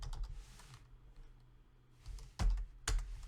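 Keystrokes on a computer keyboard during a Snort IDS command-line exercise, arriving as a few soft scattered taps and then two sharp, louder clicks near the end in an otherwise quiet room.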